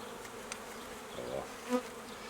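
Honeybees buzz faintly around an opened hive or nuc during a spring inspection, a soft, thin drone with a few brief louder passes of individual bees close by.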